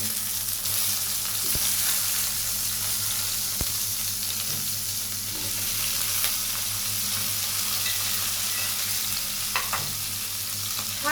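Onion and tomato slices fry in a pan for chicken dopeyaza, giving a steady, continuous sizzle throughout with a few faint utensil scrapes and stirs, no voices.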